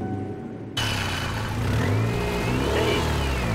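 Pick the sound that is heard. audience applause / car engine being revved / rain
car engine being revved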